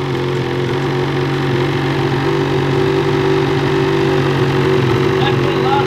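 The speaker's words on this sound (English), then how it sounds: "It is finally time to see what the GGB Mountain Can sounds like on the Freeride" A Ski-Doo Freeride 850 snowmobile fitted with a GGB Mountain Can exhaust idles steadily, a loud, even engine drone with a low hum holding unchanged throughout, close by and with no other sound.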